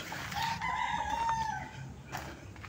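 A rooster crows once nearby, a long drawn-out call, with faint hens and quiet farmyard background.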